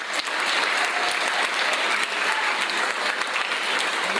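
An audience at a 2023 athletic awards ceremony applauds the cheer team, dense steady clapping that fills the room at constant loudness for several seconds with no talk over it.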